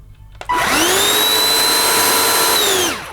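Gtech Multi K9 handheld cordless vacuum cleaner switching on with a sharp click and spinning up to a loud, steady high-pitched whine with a strong motor tone, held for a few seconds before winding down.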